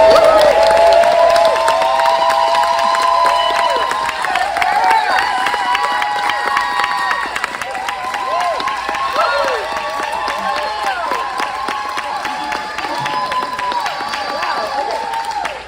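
Audience at a book launch party clapping and cheering, a dense wash of applause with whoops and excited shouting voices that stays loud throughout and eases only slightly toward the end.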